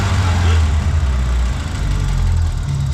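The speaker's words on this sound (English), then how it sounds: "Give it a rev." A Vauxhall Nova 1.6 injection engine with unsteady running revs up, a loud, close, continuous low drone that holds steady with slight fluctuation throughout, no voices over it.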